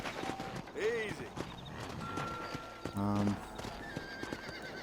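A horse in the Red Dead Redemption video game, with hoof clip-clops, a whinny and neighs mixed with game sounds, while a person talks over it.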